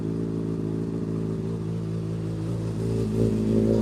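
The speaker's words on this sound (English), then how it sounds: "give you guys some revs" A dirt bike engine, already warmed up, idles loudly up close, its low throb steady before the pitch climbs slightly as it revs toward the end.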